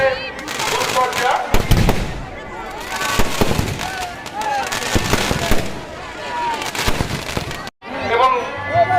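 Fireworks display at a Kali temple birth-anniversary celebration in Uluberia: rapid crackling bursts and popping volleys, loud and continuous, with crowd voices underneath and a brief gap near the end before the bangs resume.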